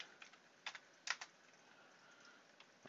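Computer keyboard typing, a few scattered quick keystrokes clustered in small bursts with pauses between, close and fairly quiet, no voices.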